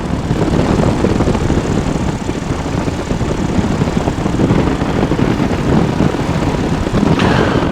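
A PeaBee ultralight aircraft engine drones steadily and loudly in flight, a continuous propeller-driven roar with wind noise that holds constant throughout.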